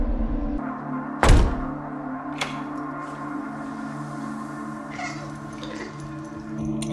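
A cat in a horror film gives a sharp, loud yowl, followed by a softer second cry and faint later sounds over a steady low background hum.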